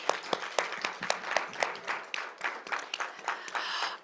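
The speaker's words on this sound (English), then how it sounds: "Let's give them another round of applause." Applause from a small audience at a poetry reading event, with individual claps clearly distinct and fairly close, steady for about four seconds.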